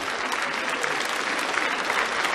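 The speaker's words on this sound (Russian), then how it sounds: "Ваши аплодисменты." An audience at a televised charity awards ceremony applauds, producing a steady, dense wash of clapping throughout with no speech over it.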